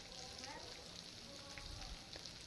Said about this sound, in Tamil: நறுக்கி வச்ச பெரிய வெங்காயத்தை இதோடு சேர்த்திக்கலாம்.